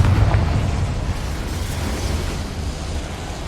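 A Confringo spell explosion in the Hogwarts Legacy video game on PS5: a loud, booming blast that rolls into a long, noisy rumble and slowly fades over a few seconds, with no talk.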